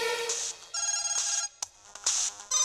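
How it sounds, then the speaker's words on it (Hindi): A mobile phone ringtone rings in a pocket in a Bollywood film scene, a bright electronic melody repeating in bursts with short gaps, fairly clear and close, with no speech over it. "अरे ये क्या, मेम साहब के फोन तो हमारे जेब में ही रह गए भैया।"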